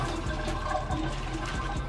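Steady broadband rush of shower water running in a home bathroom, continuous and fairly loud with no voices over it.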